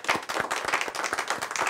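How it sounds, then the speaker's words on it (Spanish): A church congregation at Mass applauds the children, with brisk rhythmic claps at moderate volume and no voices over them. "Un aplauso a los niños."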